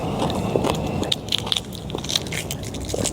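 A balut egg with a well-developed chick is chewed close up, giving crisp crackling crunches and wet bites in an irregular rhythm over a steady background hum.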